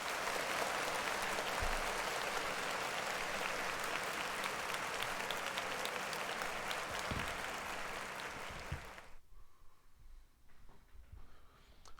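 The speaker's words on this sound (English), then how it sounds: "So clap it up for Hoosh." An audience claps in a dense, steady burst of applause that lasts several seconds, then stops abruptly, leaving quiet room noise with faint low thumps.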